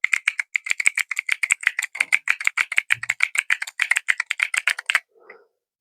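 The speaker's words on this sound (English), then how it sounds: "the black and red ones are supposed to be more clicky, tactile sound" Rapid, crisp clicking of a clicky, tactile mechanical keyboard bought from TikTok Shop, with close, even keystrokes in a steady burst of about five seconds that ends with a single softer clack.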